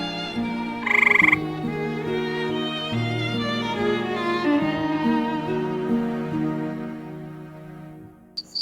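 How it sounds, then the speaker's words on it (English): A green tree frog gives one short, sharp croak early on, heard over a steady bed of music. "Green tree frog."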